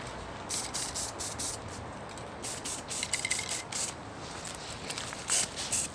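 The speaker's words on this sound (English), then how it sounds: "just very lightly spray" Several short hissing bursts of spray paint, misted lightly from about 1.5 feet onto a toy lantern for a speckled finish, light and quiet, come in an uneven rhythm with brief pauses between them.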